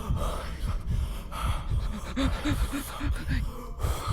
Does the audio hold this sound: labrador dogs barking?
no